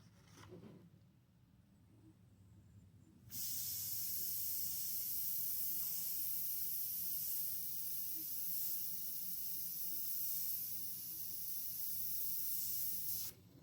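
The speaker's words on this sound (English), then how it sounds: "I should be spraying yellow there too." An airbrush sprays yellow Createx paint onto Blair synthetic paper, a steady close hiss that starts after a few quiet seconds and runs unbroken for about ten seconds before cutting off.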